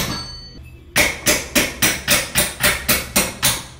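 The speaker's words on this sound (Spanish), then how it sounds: "ya después le podemos dar unos golpecitos muy suaves acá" Light hammer taps knock out the wheel axle of a Pulsar NS 200 motorcycle during drive-kit replacement; nine evenly spaced, close metallic strikes follow a quiet start, with no talking.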